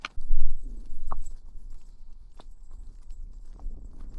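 Horses walking outdoors on a farm, hooves clip-clopping in a few soft, scattered knocks that sit low under a steady background hum.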